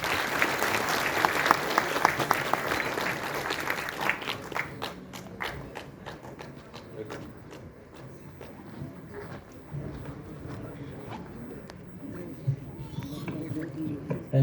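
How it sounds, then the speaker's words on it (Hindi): Loud applause from the audience at a book presentation to a minister during a lecture, heavy clapping that thins into scattered claps, with quiet talk and murmuring underneath. "जोरदार तालियां।"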